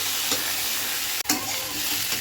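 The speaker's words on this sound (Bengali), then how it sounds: "প্রথমেই তেলের মধ্যে আলুগুলোকে ভেজে নিচ্ছি হালকা করে" Potatoes lightly frying in oil at the start of a bhola fish curry give a steady, close sizzle with stirring throughout, broken by one brief sharp clatter partway through.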